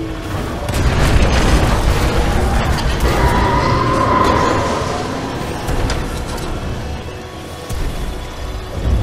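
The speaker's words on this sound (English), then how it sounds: "Series of explosions just weakened the manipulator arm." Booming explosions go off in a Titanfall 2 mission, dense and loud at first, then easing into lower rumbling with a few more bursts near the end.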